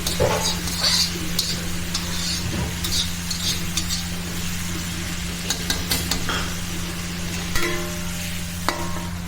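A ghee and cumin tempering for dal sizzles steadily under a low hum, with occasional stirring clinks and scrapes; nobody talks.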